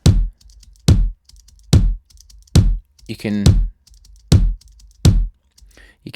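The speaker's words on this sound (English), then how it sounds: "hear now how that kick's got weight to it" A punchy synthesized kick drum with deep sub-bass thumps in a steady pattern, seven hits with a few spoken words between them.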